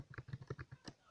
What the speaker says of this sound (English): That was really bad typing.